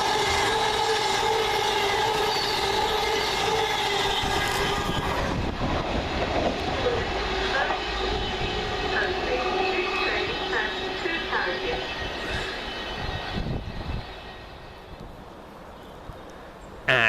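Two coupled Avanti West Coast Voyager units pass through Coleshill Parkway station on a Birmingham to London Euston service, a loud sustained roar of diesel engines and rolling wheels that carries on near and steady before easing at the end, with someone talking over it.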